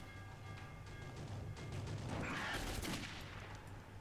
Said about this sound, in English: Two more shots.